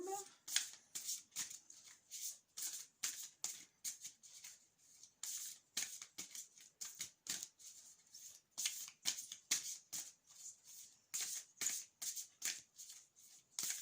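Tarot cards shuffled by hand in a steady run of crisp riffling bursts, repeated rapidly and evenly throughout at close range with no talking.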